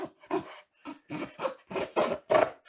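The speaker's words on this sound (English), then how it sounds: "So you make that sawing motion." Seven or so rhythmic rasping strokes, back and forth, close up, as a Canary box cutter saws through material with short pauses between strokes.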